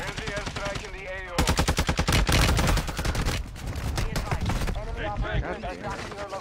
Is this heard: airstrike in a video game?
yes